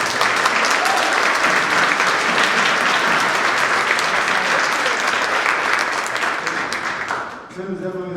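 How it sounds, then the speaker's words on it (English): A full round of dense crowd applause honoring a muralist, loud and steady for about seven seconds before fading as a voice begins to speak near the end. "Round of applause."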